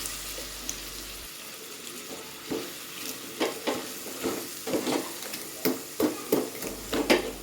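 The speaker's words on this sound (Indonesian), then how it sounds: "Setelah bawang matang, masukkan kepala udang yang telah dipersiapkan tadi ya." Shrimp heads frying with cooked onions while being stirred, made as broth for fish ball soup; a steady sizzle under repeated scraping clacks of a utensil against the pan, close and fairly loud.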